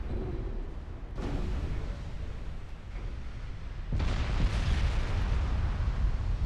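Torpedo hits explode against ships in a naval warfare game, heard as dense rumbling booms that swell at about 1 and 4 seconds and hold a continuous low roar with no talk.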